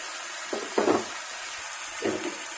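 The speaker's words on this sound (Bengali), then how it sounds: "এবারে আলুর মধ্যে দিয়ে দিচ্ছি করলা, 2-3টে কেটে রাখা পেঁয়াজ" Bitter gourd and sliced onion go into potatoes frying in a pan, giving a faint steady sizzle broken by a few short scraping stirs.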